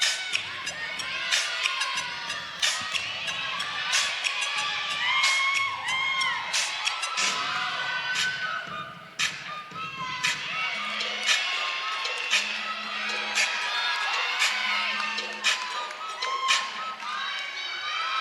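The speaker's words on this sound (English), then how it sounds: "Getting the home team crowd excited to finish off this meet." A home crowd at a Central Michigan gymnastics meet against Bowling Green cheers loudly, with bursts of whoops, high-pitched shouting and scattered claps rising and falling throughout, along with a low steady hum.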